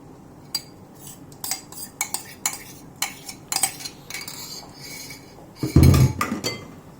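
Whipping cream is beaten in a chilled bowl with a metal utensil, making sharp, irregular clinks and scrapes against the bowl, with a louder rattling burst near the end.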